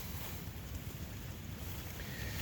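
Steady wind roars and buffets the microphone continuously around a Trekker Tent 2.2 with mesh edges, with a faint wash of water beneath and no voices.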